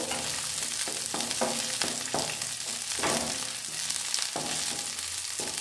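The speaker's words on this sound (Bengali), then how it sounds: "এটা একটু নাড়াচাড়া করে ভেজে নেব।" Capsicum halves cut into long strips stir-frying in a hot pan, a steady broad sizzle with repeated scraping stirs roughly every half second, close and continuous with no talk.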